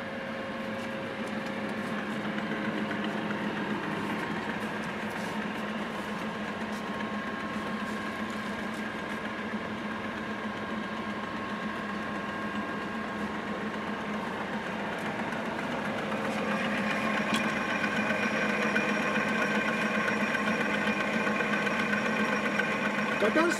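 A Gleason No 16 spiral bevel gear generator, a double-cam machine in excellent condition, runs with a steady whirring hum and tonal drone that grows slightly louder partway through.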